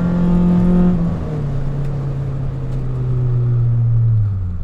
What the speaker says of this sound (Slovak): robí to vlastne veľa aj ten výfuk, lebo vlastne mám tu celonerezový stredový diel od Super Sprintu